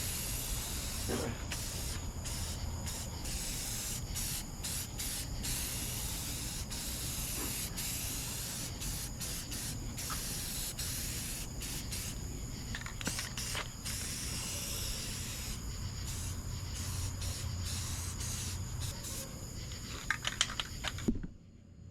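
Long continuous hiss of spray painting 1973 Ford F100 interior parts, steady and fairly close, interrupted by brief pauses in spraying, with faint talk at times.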